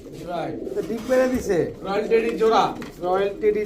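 A pair of Pakistani Kaldom pigeons cooing in repeated low, throaty phrases at close range, mixed with a voice talking over them.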